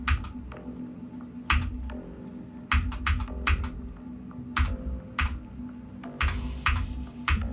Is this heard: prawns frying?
no